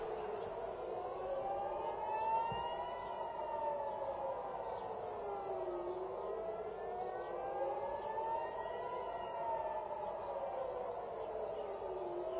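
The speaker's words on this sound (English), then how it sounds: "Here's the sirens." Civil defense air raid sirens wail across Israel during a missile alert, rising and falling in slow, even cycles, distant and continuous.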